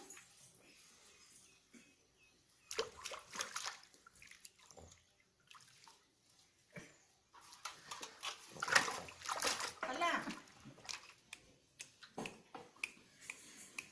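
Water splashes and sloshes in a tub as a baby bathes, in scattered bursts that grow busier toward the end, with voices talking over the splashing.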